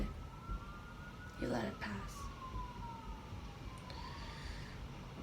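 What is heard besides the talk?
distant siren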